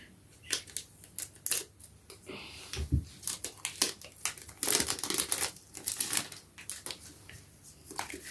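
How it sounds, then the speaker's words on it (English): Scissors snip and crinkle through plastic Pokémon card packaging, a rapid series of sharp cuts and crackling wrapper noises up close, with no talking. "Okay, I need the scissors again."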